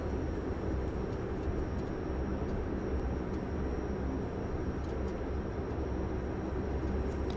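A Majestic Dash 8 Q400 turboprop airliner taxis after landing at Minneapolis in the Prepar3D flight simulator, a steady, dense engine drone and rumble holding at an even level throughout with no talking.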